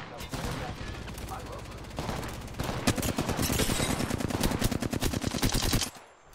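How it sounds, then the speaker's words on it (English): Automatic gunfire in the video game Apex Legends, bursts of rapid shots that build into a loud sustained stream of fire before cutting off abruptly at the end. "Listen up, I'm getting shot at."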